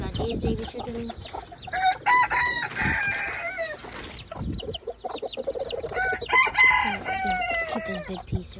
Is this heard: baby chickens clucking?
yes